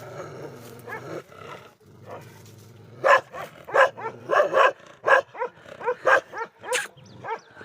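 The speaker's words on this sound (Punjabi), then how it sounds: "ਇਹ ਜੀ ਇਹਨਾਂ ਦੇ ਕੋਲ ਜਿਹੜੀ ਬੱਕਰਵਾਲ ਕੁੱਤੀ ਹੈ।" A Bakarwal sheep dog, a female of the Himalayan herding breed, barks and growls close by in a rapid series of deep, rough, roaring outbursts.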